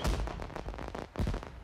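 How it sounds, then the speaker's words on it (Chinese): Fireworks in a period costume drama, a rapid cluster of booming bursts and crackles in quick succession, loud and close with no talk over them. "也能看到这么漂亮的烟花"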